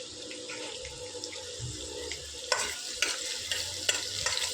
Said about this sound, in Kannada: ಈಗ ಬೆಳ್ಳುಳ್ಳಿ ಒಂದು ಸ್ವಲ್ಪ ಒಗ್ಗರಣೆಗೆ,